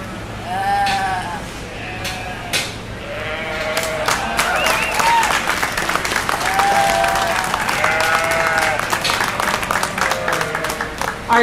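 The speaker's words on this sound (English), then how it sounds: "One more big round of applause" A crowd at a 4-H/FFA sheep breeding show applauds loudly and steadily, with sheep bleating repeatedly and nearby throughout, the clapping swelling to a dense roar in the second half.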